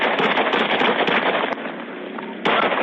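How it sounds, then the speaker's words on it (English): Gunfire from a dramatic real-world video played back over a speaker, heard as dense, harsh crackling bursts that fill the whole clip with a brief lull near the middle before resuming loudly. "Shot fired."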